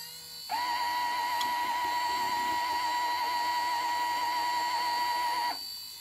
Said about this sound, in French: le problème, c'est ce sifflement de disque